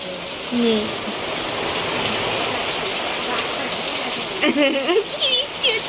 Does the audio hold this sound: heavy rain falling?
yes